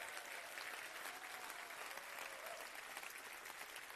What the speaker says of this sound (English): everybody will have a round of applause for everybody being so brave?